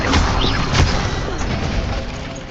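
A fire spell, Incendio, cast in the video game Hogwarts Legacy bursts out loud and close as a roaring whoosh with a sharp impact-like crack early on, then trails into a rumbling blaze.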